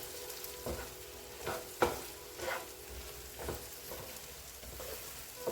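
Chili and coriander frying gently in oil over low heat in a pan for dal and shallot sambar, a soft steady sizzle with faint stirring scrapes and a few louder clinks, no voices.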